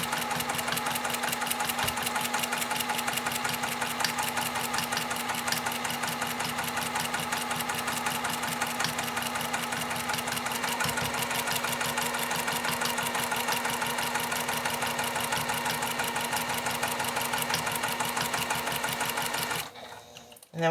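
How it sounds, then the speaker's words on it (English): Sewing machine fitted with a walking foot stitching steadily across a sampler quilt block, a fast, even mechanical chatter running continuously close by before stopping abruptly at the end. "this is a walking foot, not a running foot. Slowly stitch from one corner"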